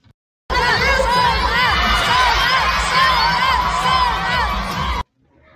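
A large crowd of fans shouts "sold out" and screams together at close range at a MAC Cosmetics event, a dense, loud roar of excited voices lasting several seconds before cutting off abruptly.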